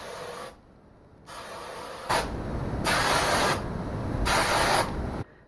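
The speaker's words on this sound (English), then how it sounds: "I like to lift and spray" An aerosol hairspray can sprays in four hissing bursts of a second or so each, close and loud, while curls are set in a 1940s-50s style.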